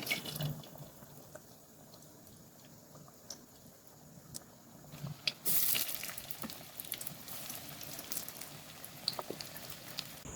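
Egg chops going into hot oil: a faint, soft sizzle and crackle, with a brief louder splash of frying about midway before the quiet bubbling continues.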